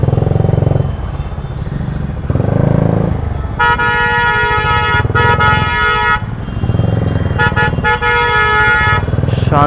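Car and motorcycle horns honk repeatedly in a congested Indian traffic jam, with long blaring bursts and short toots over a constant rumble of idling engines.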